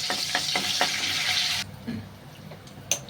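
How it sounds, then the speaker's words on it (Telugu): Mustard seeds and curry leaves sizzle in a little hot oil for a tempering, a loud, dense hiss for about a second and a half that then cuts off abruptly, leaving a few soft clicks. "ఇలా కొద్దిగా ఆయిల్ పోసుకొని ఇందులో కొద్దిగా ఆవాలు, అలాగే కొద్దిగా కరివేపాకు, అలాగే కూడా చిటికెడు ఇందులో వేసి పోపు పెట్టేసుకుందామండి"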